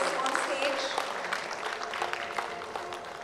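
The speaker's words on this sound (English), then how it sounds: "Please give him an astounding round of applause to join us on stage." Audience applause at the closing ceremony of an ear, nose and throat medical conference, a fairly faint, steady spread of clapping that carries on for several seconds, with a voice speaking over it.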